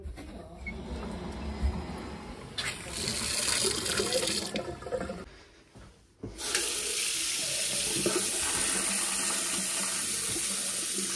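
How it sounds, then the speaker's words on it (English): Tap water gushes steadily into a sink after the supply is turned back on, a broad hiss that drops away briefly for a moment before resuming strongly. "Check taps off, I'm going to turn water back on."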